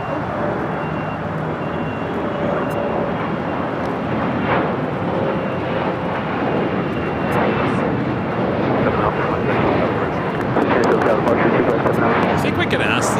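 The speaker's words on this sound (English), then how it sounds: "This is Asiana Airlines Flight 201 taking off to Seoul on the A380." An Asiana Airlines Airbus A380 takes off from LAX for Seoul, its engines producing a heavy continuous rumbling roar that swells toward the end, with occasional speech mixed in.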